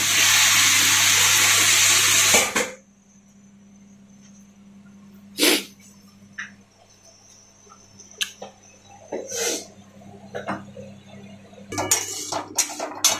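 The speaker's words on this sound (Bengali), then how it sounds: "সামান্য একটু জল দিয়ে দিলাম।" Water is poured into a hot pan of spiced capsicum and potato, giving a loud hissing splash for a couple of seconds that gives way to near quiet with a few light clinks of utensils.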